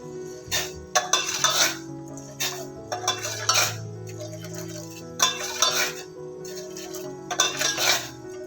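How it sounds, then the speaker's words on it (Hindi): Sugar melting in a pan for spiced tea is stirred with a metal spoon, giving repeated clinking scrapes against the pan in bursts, close and fairly loud, over a faint steady background tone. "चीनी को अब हम इसमें अच्छे तरीके से पका लेंगे।"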